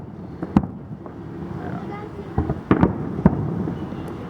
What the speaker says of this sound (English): Now those are awesome fireworks.